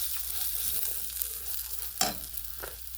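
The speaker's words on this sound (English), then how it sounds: "I sauteed them with some olive oil" Brussels sprouts sautéing in olive oil in a pan give a soft steady sizzle with a couple of sharper stirring scrapes near the end, close and without talk.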